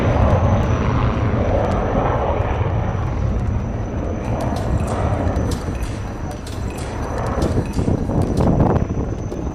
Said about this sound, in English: you can see the Rafale performing maneuvers in the landing gears down.